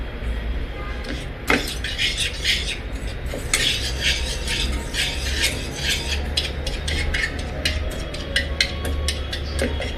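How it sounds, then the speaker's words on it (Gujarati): Gram flour batter stirred briskly in a vessel to break up lumps, giving steady scraping, rasping strokes in a repeating rhythm, close and fairly loud, with no talk over it. "ગાંઠા બધા ભાંગી લેવાના"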